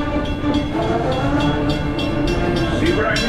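Walt Disney World Railroad steam train in the theme park, a steady close rolling rumble with a brief whistle-like tone near the end, running continuously over a few seconds with no talk.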